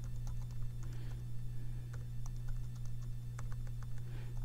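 Keyboard typing on a computer, heard as soft scattered key clicks in irregular bursts over a steady low electrical hum, fairly quiet and close, with no talking.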